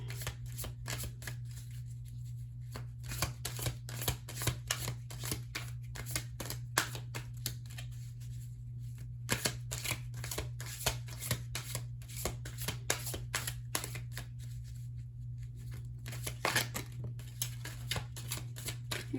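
Tarot cards being shuffled by hand to draw one more card: a continuous run of close, crisp riffling and flicking, with a steady low hum beneath.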